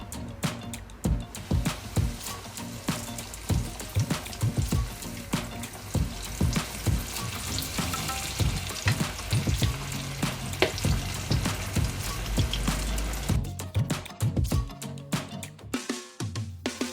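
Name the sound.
chicken leg pieces frying in hot oil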